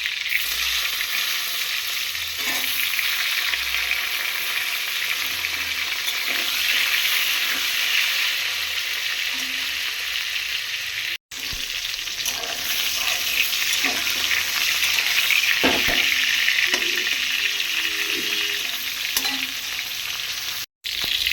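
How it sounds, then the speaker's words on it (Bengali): Pointed gourd (potol), coated in salt and turmeric, frying in hot oil, a loud, continuous sizzle with crackling spatter and occasional stirring scrapes, close up and without talk. "তেলটা গরম হয়ে গেছে, পটলগুলো ভেজে নেব ভালো করে।"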